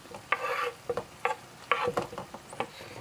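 Tomatoes hit a hot pan for salmon kabobs, giving bursts of sizzling and stirring scrapes in short pulses, close and moderately loud, with no voices.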